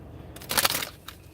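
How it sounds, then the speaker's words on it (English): A deck of tarot cards gets one short, close riffle shuffle, a quick papery burst that fades within a second against a quiet room. "Okay, I'm gonna shuffle 4 times."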